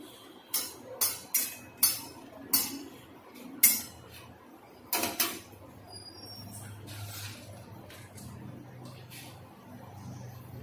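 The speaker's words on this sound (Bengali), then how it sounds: "দিয়ে দেবো গোটা 3টে শুকনো লঙ্কা, শুকনো খোলায় ভাজবো" Three dry red chillies dry-roasting in a hot kadai on a gas stove, with a series of sharp metallic clinks and scrapes from utensil against pan in the first half, then quieter shuffling and low hiss.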